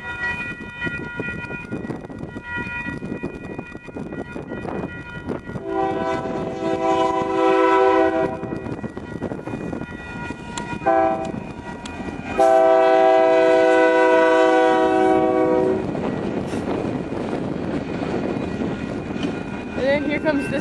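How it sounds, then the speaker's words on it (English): A Union Pacific grain train with two engines passes in Fort Worth, Texas, its rumble building close by while the horn sounds in long sustained blasts, first one and then a longer second. "Here comes the train."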